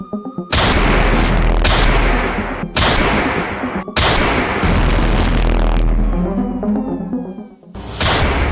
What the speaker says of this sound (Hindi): गोलियों की तड़तड़ाहट थर्रा उठी राजधानी।